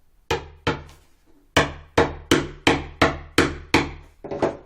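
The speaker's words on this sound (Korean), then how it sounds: "한쪽 손으로 잘 잡고 망치질을 하겠습니다" A hammer drives a wooden wheel onto the axle of a handmade wooden toy train, about nine sharp, evenly spaced knocks, close and loud, each ringing briefly before the next blow.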